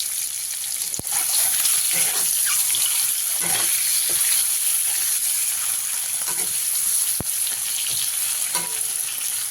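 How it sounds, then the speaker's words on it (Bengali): Eggs frying in a pan with turmeric and Kashmiri chili powder, a steady loud sizzle with occasional clicks and stirring scrapes, close up and continuous, no talking. "ডিমটা আমি এরকম হালকা হালকা ভেজে নিয়েছি"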